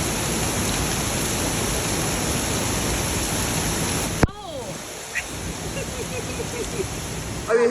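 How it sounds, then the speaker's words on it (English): A waterfall roars as a dense, steady rush of water for about four seconds, then drops abruptly to a quieter background with faint voices and scattered sounds. "just come to the falls"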